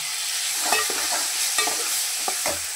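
Finely chopped tomatoes for pav bhaji fry in a pan while being stirred, making a close, steady sizzle punctuated by scraping stirs, with no voices.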